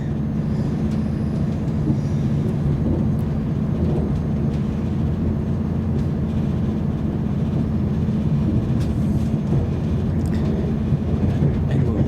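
A train bound for Darlington in North East England rumbles steadily past at close range, a continuous low mechanical roar with faint rattling and no voices.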